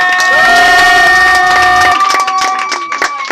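A church congregation cheers and shouts together, sustained voices ringing out, then tapering into scattered calls and clapping.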